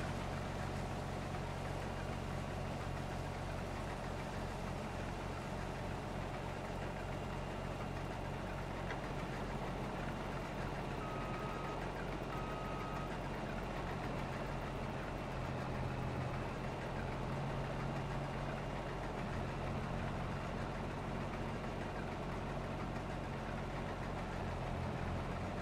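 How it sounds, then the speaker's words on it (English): A truck engine idles in Farming Simulator 22, a steady low mechanical drone with an even hum that holds unchanged for the whole stretch, with no speech. "the truck is still waiting down there"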